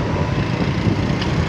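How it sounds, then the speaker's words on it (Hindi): A broad, steady roar of traffic and wind washes through continuously, consistent with a metro bus passing on an overhead track, loud and unbroken with no distinct pass-by peak. "ये ऊपर मेट्रो बस जा रही है"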